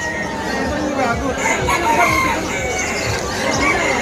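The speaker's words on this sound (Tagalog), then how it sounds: "Ito na, puro manok." Many chickens cluck and crow at once, a dense, busy flock sound with a rooster's crow rising above steady clucking and some background chatter.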